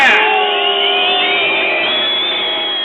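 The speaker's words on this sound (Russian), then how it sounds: "Кричите громче!" A large crowd at an anti-Putin street protest roars and whistles in one loud, unbroken wall of noise, with piercing whistle tones riding over the massed shouting.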